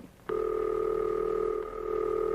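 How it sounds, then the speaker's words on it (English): A telephone ringing signal tone from an old dial telephone system: a steady, loud electronic ring that starts abruptly and holds continuously, with a slight dip partway through. "That's the ringing signal."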